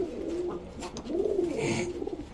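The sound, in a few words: pigeon cooing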